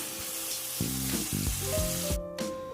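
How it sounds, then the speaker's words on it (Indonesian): Ground spice paste sautéing in hot cooking oil, a close, steady sizzle and crackle with stirring scrapes and a few clinks from a utensil against the pan. "tumis bumbu halus."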